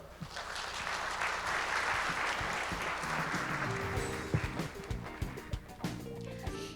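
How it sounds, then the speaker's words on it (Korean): Audience applause at a smart construction conference after a presentation: steady, dense clapping from a large room that swells and then tapers, with a voice speaking over the last few seconds. "여러분 다시 한번 큰 박수 부탁드리겠습니다"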